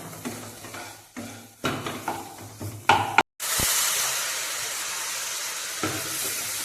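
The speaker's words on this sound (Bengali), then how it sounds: "এবং পরিমাণ মতো হলুদ দিয়ে আমি মশলাটাকে আরো ভালো করে নাড়াতে থাকবো।" Egg curry spice paste with turmeric stirred in a frying pan, several scraping strokes at first, then a loud steady sizzle and hiss once liquid hits the hot pan, close by with no talking.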